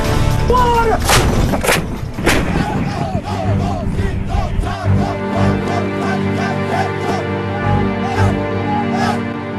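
Indian Army heavy artillery guns fire in a few loud booming blasts near the start, followed by rumbling echoes and ongoing background activity.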